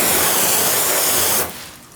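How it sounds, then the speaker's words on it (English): A garden hose sprays water onto a freshly waxed car, a loud, continuous broadband hiss and splatter that cuts off abruptly near the end, leaving faint background noise. "Hopefully I'm not spraying down the camera or anything."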